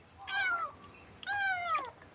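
A kitten meows twice at feeding time, clear and close, each call a drawn-out rising and falling cry with a short pause between them.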